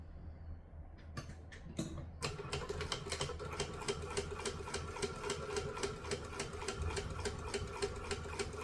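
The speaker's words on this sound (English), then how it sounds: "Sew it slowly and then constantly keep it moving" A domestic sewing machine stitches a seam slowly, starting after a few clicks and settling into a steady, close, rhythmic chatter of the needle.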